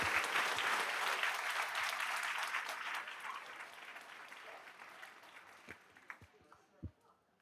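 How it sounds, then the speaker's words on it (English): Audience at a school board meeting gives a sustained round of applause for an elementary school children's choir, loud at first and then thinning into scattered claps that fade toward the end. "one big round of applause for the Singing Falcons"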